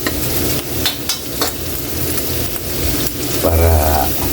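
Garlic and butter sizzle in a pan while mussels are being cooked, a steady close frying hiss with a few stirring scrapes, swelling slightly louder near the end.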